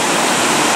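A forest waterfall along the Lake Waikaremoana Great Walk in Te Urewera roars in a steady, loud, close rush of white noise with no breaks.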